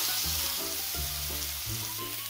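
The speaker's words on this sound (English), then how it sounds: "I love the sizzle." Loud, continuous sizzling of chuck roast searing in a very hot pan, close up, with a low rumbling undertone.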